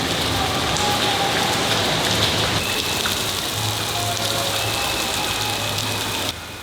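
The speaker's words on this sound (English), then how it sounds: "start dropping like big stones, very much. Like I think I never saw this rain in my life." Heavy rain pours down in a dense, steady hiss with drops drumming on surfaces, while an engine idles low underneath.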